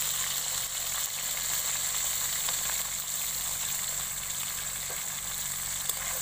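Whole pointed gourds frying in hot oil with salt and turmeric, a steady, dense sizzle that carries on unbroken and close from start to finish, with no voices over it.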